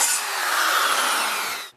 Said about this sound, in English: And now I'm going to drill a 5/16 hole.